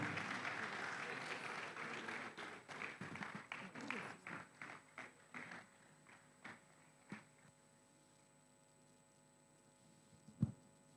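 Conference attendees clap for Frank at an e-learning week closing session, a modest burst of applause that thins to scattered claps and fades, with a voice speaking at the start.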